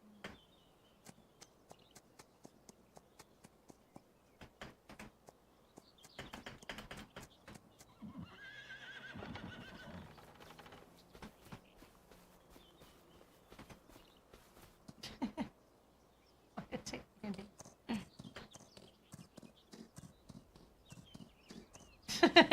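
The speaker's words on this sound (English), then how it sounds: "This horse is the one, it looks just like the horse that Patty was riding earlier" A horse on a spinach-growing farm walks with sparse clip-clopping hooves, gives a loud whinny midway, then steps more quickly with clustered hoofbeats toward the end, fairly close and otherwise quiet.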